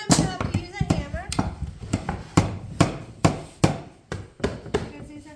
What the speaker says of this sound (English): Sometimes you have to use a hammer.